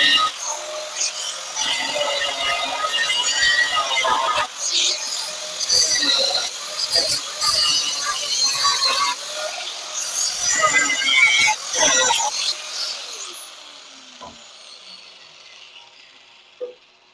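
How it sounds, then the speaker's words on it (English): Welds are cut on a badly rusted trailing arm frame section of a 1970 Triumph TR6, with a harsh, loud, grinding mechanical rasp running in uneven bursts for most of the time. It stops near the end, followed by a single sharp knock. "I'm going to cut this weld and this weld."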